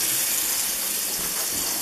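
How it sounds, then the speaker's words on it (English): Tap water runs steadily over mushrooms being washed in a kitchen sink, a loud continuous splashing rush that fills the whole span with no voices. "So we'll go ahead and put some water on them."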